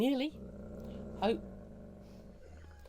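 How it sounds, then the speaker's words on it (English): A dog growls low and steadily throughout, close by, with a short voiced exclamation at the start and another brief vocal sound partway through. "that's not my stomach. That is the dog."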